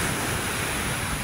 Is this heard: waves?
yes